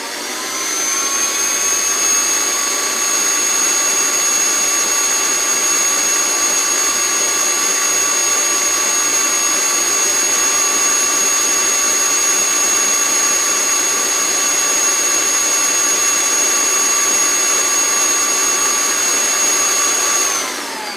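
An electric mixer whips cream in a bowl with a steady, even high whine that runs unbroken for about twenty seconds. The sound is close and loud, with no talk over it.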